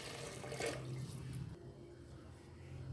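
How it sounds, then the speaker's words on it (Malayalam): Water is poured into frying rice for vegetable khichdi: a soft, brief splashing pour at first that fades to a quiet simmer, all low in level. "ഈ സമയത്ത് നമുക്ക് വെള്ളം ചേർത്ത് കൊടുക്കണം."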